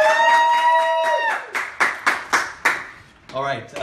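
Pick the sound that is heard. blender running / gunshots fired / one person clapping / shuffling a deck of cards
one person clapping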